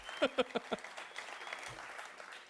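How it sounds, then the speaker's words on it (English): A few sharp claps open, then a thin scattering of audience applause at a local business awards ceremony, faint and distant, fading into a soft murmur. "a clap for that"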